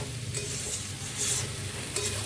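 Masala and tomato frying in a pan while being stirred for a pointed gourd and prawn curry: a steady close sizzle with scraping stirs and brief louder hisses, no voices.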